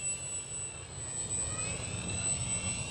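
An Arrows Trekker 1.2 m RC plane flies in stormy weather, its electric motor giving a steady high whine that rises and falls slightly as it passes at a moderate distance, with no talking.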